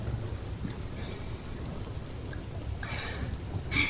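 Steady rain falls throughout, a dense continuous hiss of drops on surfaces with brief brighter patter near the end.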